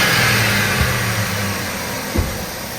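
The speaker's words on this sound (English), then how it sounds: "Let me give her a rev." Truck engine revving near the mic, a mid-pitched engine drone that eases down over the clip before a short, sharp rev burst near the end.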